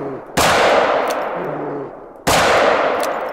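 Two loud rifle shots are fired at an injured bear in theHunter: Call of the Wild. They come close, about two seconds apart, and each has a sharp crack followed by a long rolling echo that fades out.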